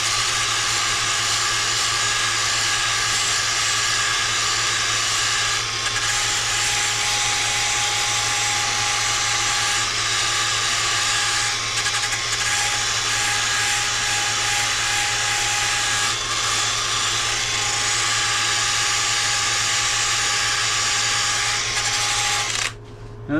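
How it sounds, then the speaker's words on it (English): Sanding a small wooden crotch bowl on a lathe: a steady, loud whirring hum with continuous abrasive hiss, unbroken for about twenty seconds before stopping abruptly at the end. "There was a little bit of sanding I wanted to do."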